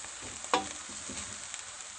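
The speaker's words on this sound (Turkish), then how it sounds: "1 yemek kaşığı unumuzu da ilave edip onu da kavuralım." Flour roasting with vegetables, peas and lentils in a pot for soup gives a soft, steady sizzle, with a single clear scrape of a stirring spoon near the start and quieter stirring after it.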